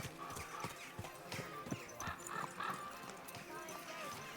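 Rhythmic clip-clop of horse hooves with a whinny in the video game Kingdom Come: Deliverance II, while a person speaks softly over the sounds.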